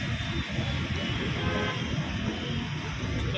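Dense traffic rumbles through a busy major road junction in Kalyan, with short car horn toots sounding close over the steady engine noise.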